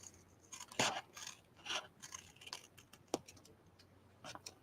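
Scissors snip around a paper envelope while handmade cards are being made, giving a few sharp, close cutting clicks separated by quieter handling sounds.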